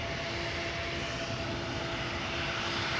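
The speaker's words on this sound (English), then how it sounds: "Taxi to the runway threshold." An airliner taxis toward the runway threshold at Amsterdam Schiphol Airport, its jet engines giving a steady, even roar with faint tonal whine, continuous and moderately distant, with no voices.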